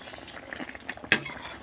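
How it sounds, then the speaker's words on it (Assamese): Rice flour stirred into a dry jute leaf curry in a pot, with a spoon scraping and swishing softly and one sharp clink against the pot near the middle, close and fairly quiet. "এয়া মই লৰাই দিছোঁ।"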